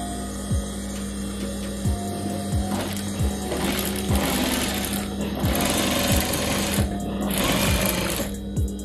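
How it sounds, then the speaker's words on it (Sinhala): A sewing machine stitches the front piece of palazzo pants in a steady, rapid mechanical chatter with regular rhythmic thumps, speeding up in short bursts and running close and clear. "දැන් එහෙනම් අපි මහන්න දැක්කිය."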